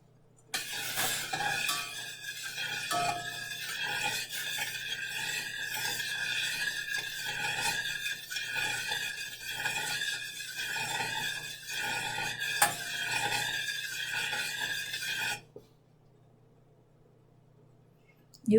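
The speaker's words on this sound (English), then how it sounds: "So I'm going to stir." Si wu gao mixture being stirred in a pot as it begins to boil, steady rhythmic scraping and swishing of a utensil against the pot for about fifteen seconds, then quiet.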